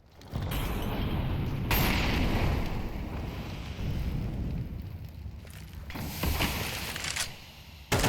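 Counter-Strike grenades going off on the Anubis map: two booming blasts several seconds apart over a steady rumbling game ambience, with a sharp final hit at the very end.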